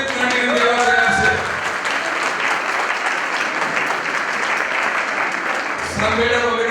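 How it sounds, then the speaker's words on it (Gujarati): An audience at a Diwali gathering in Nairobi bursts into dense, sustained clapping, with a voice speaking briefly at the start and the end. "આ તાળી પાડી લીધી છે"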